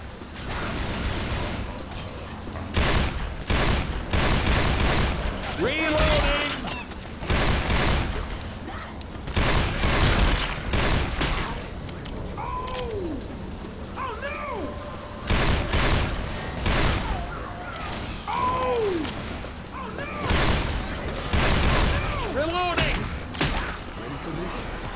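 Bursts of gunfire from survivors fighting zombies in Left 4 Dead 2's No Mercy campaign on Expert Realism, with repeated broadband shots in clusters, a few reload clicks, and players talking over the din.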